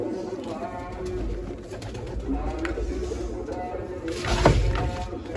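Pigeons cooing in a loft where a pair is being trained, soft repeated low coos over a busy background, with people talking nearby and a brief sharper rattle near the end.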